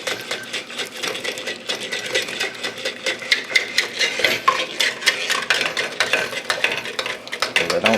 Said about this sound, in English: Now I'm going to quickly add these eggs and stir very feverishly.